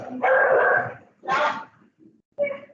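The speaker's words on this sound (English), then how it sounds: "you can hear the dogs around us have gone crazy in this weather" Nearby dogs bark and yelp excitedly in rainy weather, a few loud, close barks with short gaps between them. A human voice may mix in.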